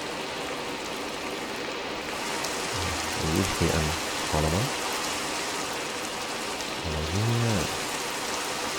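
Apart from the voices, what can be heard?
rain falling in the video game Minecraft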